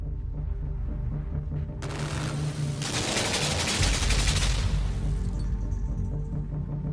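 Machine gun fire in the side-scrolling game LIMBO, a dense burst of rapid shots breaking out over a low ambient rumble, loud and sustained for a few seconds before easing off.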